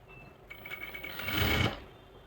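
A sewing machine runs briefly while stitching salwar panels together, giving a soft whir that swells to a louder run near the middle and then stops, with no talking.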